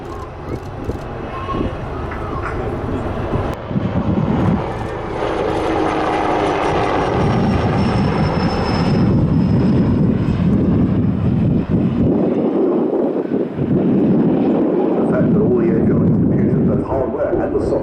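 A military helicopter flies an airshow display at FIA 2024, performing spot turns, low-speed lateral, forward and backward flight, vertical climbs and dives; a loud, steady rotor roar fills the whole stretch with wind buffeting.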